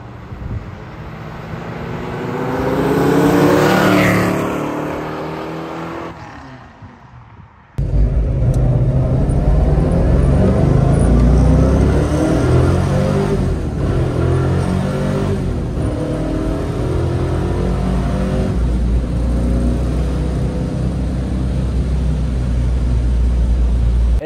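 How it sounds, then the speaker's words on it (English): A 1965 Ford Mustang Fastback GT350 engine accelerating, rising in a loud swelling rev, briefly dropping, then a sudden surge into sustained hard pull with a deep, steady rumbling drone, no voices. "This thing accelerates very nicely."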